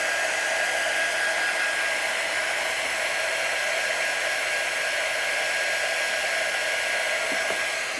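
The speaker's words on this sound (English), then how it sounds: "little air dryer." A small handheld air dryer blows steadily, drying paste on a hat being prepared for hat burning; one continuous, even whirring roar runs close by with no breaks.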